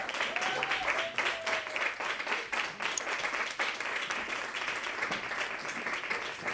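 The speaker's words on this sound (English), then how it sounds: "Applause." Audience at an open mic applauding a performer coming up to the microphone, a dense, steady wash of many hands clapping that holds at an even level throughout, with a faint tone underneath.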